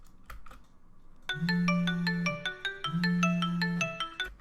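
Cell phone ringtone heard muffled through a small phone speaker, a repeating bright melodic pattern with a pulsing low tone, entering after a second of quiet background rustle and fairly soft overall.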